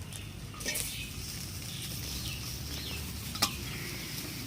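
Chopped snake gourd hits a hot pan with a soft sizzle, followed by scraping stirs and a couple of utensil clinks against the pan.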